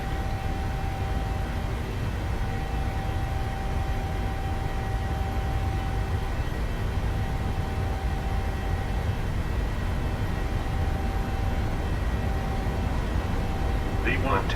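Steady engine roar of a PMDG Boeing 737-800 on its takeoff roll in MSFS 2020, a continuous broadband rumble with a faint tonal whine holding level throughout, heard alone at constant loudness.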